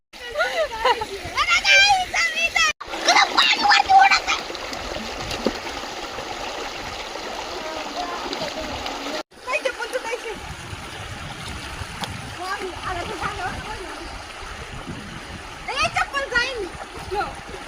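Pooled floodwater splashes and churns continuously close by while people, including a child, talk over it.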